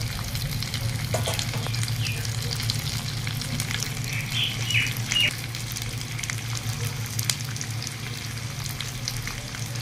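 Garlic frying in oil gives a steady, even sizzle with a faint stir or two, close and continuous, with no voices.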